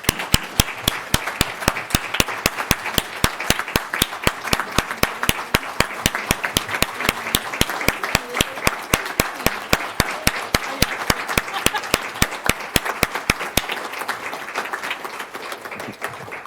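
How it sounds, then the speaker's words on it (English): A town council meeting audience gives a round of applause, dense steady clapping from many hands that keeps going strongly for the whole stretch, loud and close, with no speech over it. "I say we should give them one more round of applause"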